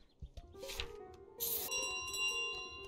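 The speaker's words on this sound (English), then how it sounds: "And there comes the bell." A bell rings out in a video game, a bright ringing with sustained metallic overtones that sounds and then lingers, preceded by a few softer chimes and clicks.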